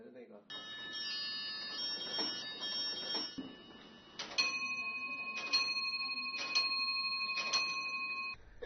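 An antique automaton clock in the Forbidden City chimes several bright, sustained bell tones in sequence, with a soft ticking mechanism underneath, close and clear.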